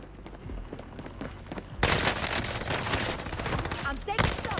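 Rapid gunfire from the video game Warzone, bursts of automatic shots and loud cracks crowding together, quieter at first then a sudden intense fusillade, with brief voice chatter mixed in.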